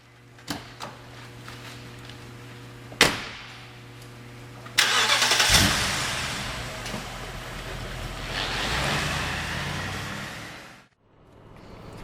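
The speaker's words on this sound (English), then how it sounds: "Just cruising along here in the X5" A BMW X5 4.4i Sport starts up after a few sharp clicks and thumps, then its engine runs with a smooth mid-pitched hum and rising road noise before cutting out near the end.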